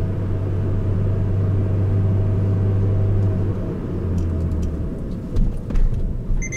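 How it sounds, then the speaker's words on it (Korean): A car rolls downhill in second gear on a winding road using engine braking, giving a low, steady engine drone that eases off partway through, with some faint rattles and clicks near the end. "지금도 이제 제가 2단으로 엔진 브레이크만 사용을 해서 내려가고 있는 상황이기 때문에"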